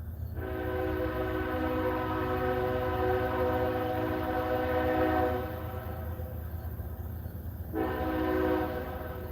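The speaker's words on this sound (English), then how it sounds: "There's the train again." A passing train sounds its horn in two long, loud, steady blasts separated by a brief gap, over a continuous low rumble of the rail cars, with no voices.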